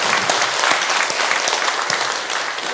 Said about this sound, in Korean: 70년 동안 우리에게 인도하신 하나님께 영광 박수 돌립니다.